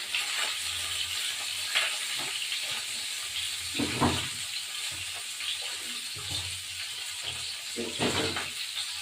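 Cut cauliflower florets dropped into hot oil in a home kitchen pan, giving a steady close sizzling hiss with occasional louder spits and pops throughout.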